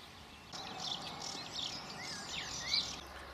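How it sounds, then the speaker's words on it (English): Dawn chorus birdsong outdoors, a faint layered wash of distant chirps and warbles running continuously over low background hiss. "it's dawn that's a special time for listening to the birds."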